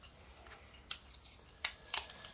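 Scissors trimming the leader of a roll of 35mm HP5 film; three short, crisp snips close by, spaced unevenly, against quiet room tone.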